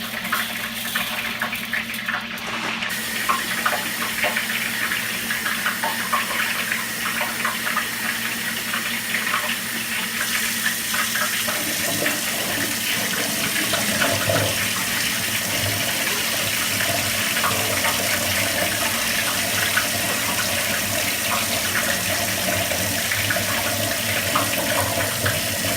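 Water runs steadily from a tap into a sink or bowl, a continuous lukewarm splashing rush with small shifts as rice is rinsed beneath it.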